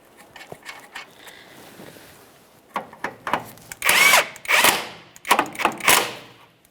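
A power tool drives a tie rod mounting nut onto the steering knuckle of a 2012-2015 Honda Civic, several short loud bursts of whirring with brief pauses, preceded by quieter clicks and handling of parts.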